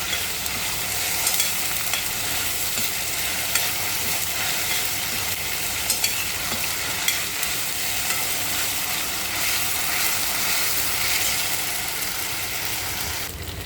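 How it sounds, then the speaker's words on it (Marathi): Green masala paste of ground herbs frying in hot oil for a dry chicken dish, a steady, close, continuous sizzle with occasional stirring scrapes, no voices. "हिरवं वाटण तेलात चांगलं फ्राय होऊन द्यायचं।"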